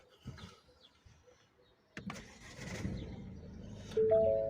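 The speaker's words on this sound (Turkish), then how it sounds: "Ben aslında arabayı çalıştırırsam çok iyi olur." A diesel Ford Kuga starts with a sharp crank at about two seconds, then settles into a steady low idle rumble, preceded by quiet cabin clicks and ending in a chime.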